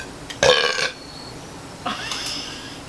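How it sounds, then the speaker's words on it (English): Two loud, close burps done on command, a long one followed by a second after a short pause, with no talk over them. "I can burp on command."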